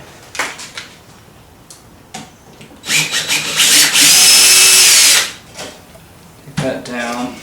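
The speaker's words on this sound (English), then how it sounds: "Get my drill here." A power drill whirs in a loud, steady burst lasting a couple of seconds while a motorized Halloween body bag prop is built, with shorter tool noises and handling clatter before and after.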